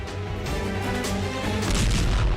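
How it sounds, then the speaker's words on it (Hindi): Second artillery shell explosion striking a Ukrainian army convoy, captured from a drone: dense continuous rumbling roar that swells with a deeper low-frequency boom toward the end, loud and unbroken, no voices. "दूसरा धमाका भी वहीं होता है और इस तरह यूक्रेन का आर्मी कॉन्वॉय बिखरने लगता है"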